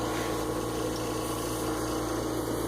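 A pump pushes water through a flow meter and along a hose, giving a steady, unbroken hum with a constant liquid rush and no pauses.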